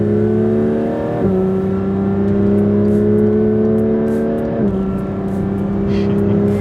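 Porsche 992 GT3 engine revving while driving, a loud sustained mechanical drone climbing steadily through the revs, with two brief dips where the pitch drops as gears change.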